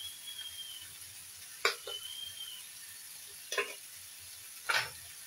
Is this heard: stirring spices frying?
yes